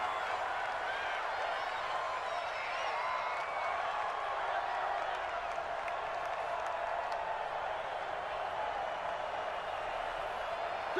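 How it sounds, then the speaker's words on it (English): A large stadium crowd at an NFL game, Broncos at Patriots in 2020, roars steadily as a big third down approaches, a dense sustained wall of cheering and murmur with scattered whoops, holding at the same level throughout. "the crowd getting into it as we come up on a big third down"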